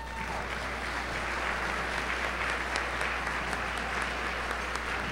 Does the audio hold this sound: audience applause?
yes